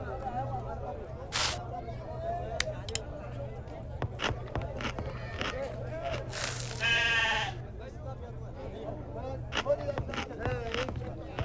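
A goat in the Agatha Christie: Murder on the Orient Express game lets out one long, wavering bleat midway, heard among voices talking and scattered clicks.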